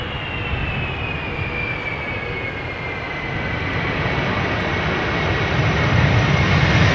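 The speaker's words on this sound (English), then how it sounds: "Maskargo, flight 6126, A330-200 freighter, 12 years old, first flight August 2011" A MASkargo Airbus A330-200 freighter landing at Amsterdam Schiphol, its engines a loud sustained roar with a faint descending whine that swells slightly as the aircraft nears.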